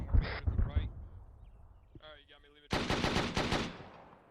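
ARMA 3 video game gunfire, with short bursts of rapid shots at the start and again near the end, separated by radio-style speech.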